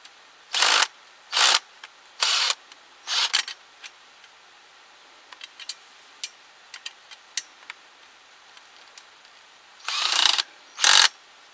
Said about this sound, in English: So that using the drill speeded it up